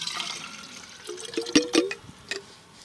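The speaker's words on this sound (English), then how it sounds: "I'm going to go ahead and pour this water in here" Water is poured into a metal water bottle beside a campfire, a short burst of splashing and filling gurgles, close and fairly soft.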